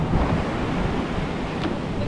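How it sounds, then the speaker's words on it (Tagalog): Strong ocean surf roars steadily close by, a dense continuous wash of big breaking waves with wind rumbling across the microphone. "Malakas ang alon, malakas."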